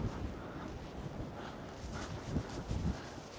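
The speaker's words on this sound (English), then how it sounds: "It is quite windy." Strong coastal wind at Hurlstone Point buffets the microphone in a steady low roar with gusty surges, loud and close, no voices.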